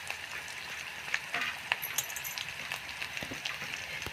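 Mustard seeds and green chilies sizzle in hot oil for tempering, giving a soft, steady frying hiss with scattered small pops, crackles and faint metallic clinks of stirring close by.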